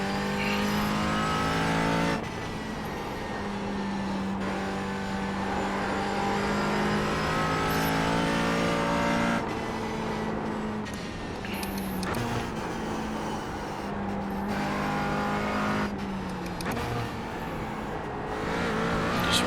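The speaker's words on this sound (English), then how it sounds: "Ringing the hell out of this engine." A GT4 race car engine in the video game iRacing revs hard and continuously, rising through the gears with shift breaks. The loud, buzzing drone never lets up.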